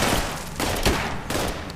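Gunfire in the video game Fallout 76, several loud sharp bursts of shots in quick succession over a noisy background, with no talking.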